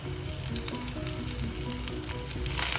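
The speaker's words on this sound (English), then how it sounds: "deep fry the snacks I'm cooking. So this on a medium heat, it all cooks" Corn malai kebab snacks deep frying in oil over medium heat, a steady close sizzle and bubbling that holds throughout and swells slightly at the end.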